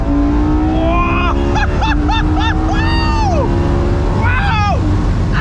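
Ferrari LaFerrari Aperta pulling hard from second gear, engine revs climbing in rising sweeps with several quick upshifts and throttle blips, loud and close under steady wind rush, with a person's excited voice over it.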